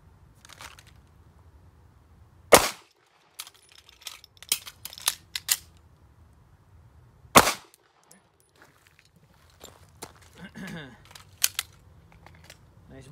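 Pistol shots during a Dot Torture drill at 5 yards: two loud, sharp reports several seconds apart, with smaller handling clicks and clatter around them, close and dry.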